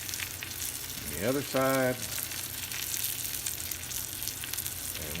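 Ribeye steak sizzling over a hot grill, a continuous close crackle and hiss with a short burst of speech partway through.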